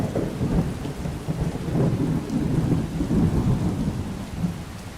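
Steady heavy rain from a video game thunderstorm in Skyrim pours down with low rolling thunder rumbling throughout, dense and continuous with no voices.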